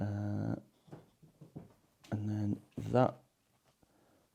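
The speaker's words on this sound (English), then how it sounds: "That noise is just the dog coming down to say hello." A dog's low growling whine and whimpers, close by, in short bursts alternating with brief speech from a man.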